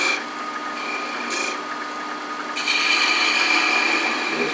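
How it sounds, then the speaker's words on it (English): A 3/8 inch detail gouge shaping wood spinning on a lathe for a globe ornament, a steady hissing, scraping cut with the motor's whine beneath, growing louder and brighter toward the end. "using a 3/8 inch detail gouge, I'm going to spindle gouge"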